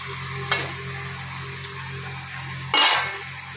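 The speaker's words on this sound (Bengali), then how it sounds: "পেঁয়াজগুলো কিছুক্ষণ ভাজা হতে থাক।" Onions frying in oil in a wok, a steady close sizzle with a sharp burst of hissing and a scrape of stirring near the end, no voices.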